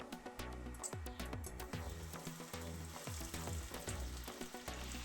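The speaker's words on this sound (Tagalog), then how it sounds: "Fry until the edges become crispy." Breadcrumb-coated eggplant omelet sizzles steadily in hot oil, a dense, continuous close-up crackle and hiss with faint soft popping throughout.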